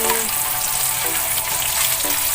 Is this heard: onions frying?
yes